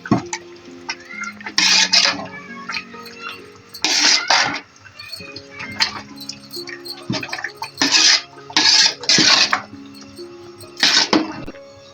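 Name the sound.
stirring Old Delhi shola in a pot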